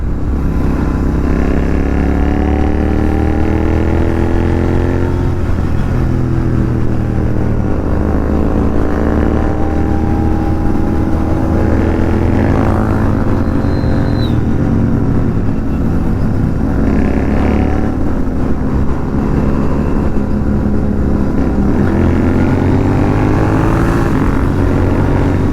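A Royal Enfield GT 650 twin exhaust drones steadily on a morning ride toward Kanpur, a loud continuous engine note rising and falling slightly as the revs shift, with wind rush around it.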